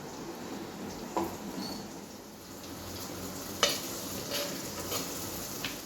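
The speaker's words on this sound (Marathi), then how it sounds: "मी कढईमध्ये थोडंसं तेल घालून घेतलं आहे कांदा कांदा परतून घेते" Onions sizzle softly in a pan of oil, a continuous gentle frying hiss with occasional scrapes of stirring.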